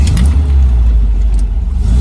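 A 1968 MGB Roadster, rebuilt on a Heritage shell, with a 4-speed manual gearbox and overdrive, fires up and settles into a loud, steady, close-up engine rumble with no voices.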